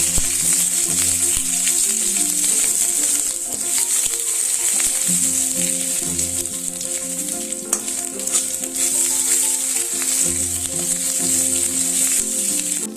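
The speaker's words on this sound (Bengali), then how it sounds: "এবার এর মধ্যে দিচ্ছি আদা বাটা, দিয়ে একটু ভালো করে নাড়বো" Ginger paste frying in a pan as it is stirred steadily, giving a continuous close sizzle with soft scraping throughout.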